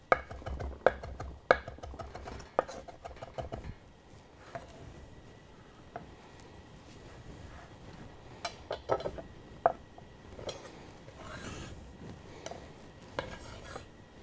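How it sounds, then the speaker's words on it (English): A French chef knife taps repeatedly on a cutting board while chopping parsley in quick uneven bursts, close and fairly quiet, with pauses and light clinks between. "This French chef knife here is really good for chopping up parsley."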